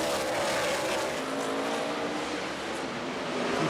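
NASCAR stock cars roar around Bristol's short track during the 2012 night race, a loud, continuous, dense engine wail from the tightly packed field with faint tire squeal woven through the roar.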